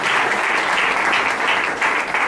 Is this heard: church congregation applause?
yes